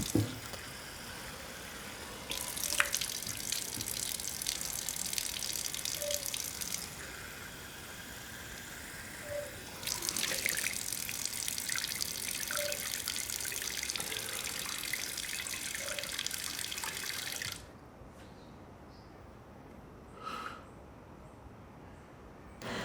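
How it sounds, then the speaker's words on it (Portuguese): A bathroom sink tap runs steadily as someone washes their face, water splashing and hissing close by in a continuous stream that swells and shifts, then cuts off near the end leaving faint drips. "Liga a torneira e lava o seu rosto."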